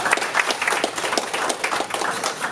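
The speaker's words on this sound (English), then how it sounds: "Give her a round of applause." A conference audience applauds at a workshop, a dense, continuous wash of many hands clapping together at moderate loudness, with faint crowd murmur beneath.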